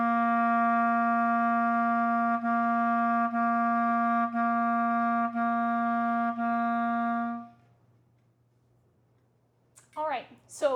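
Clarinet holds a sustained tone re-articulated with crisp tongued attacks on an even, steady beat for several seconds, then stops; a voice speaks briefly afterward.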